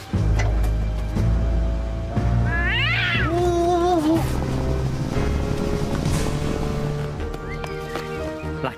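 A cat meows a few times with rising, wavering cries, heard over a steady low rumble of background noise and music-like hum.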